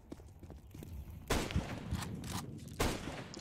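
Gunfire in the CS2 game near smoke on a map with a catwalk, heard as a couple of sharp, loud bursts standing out against quieter background noise, with no talk.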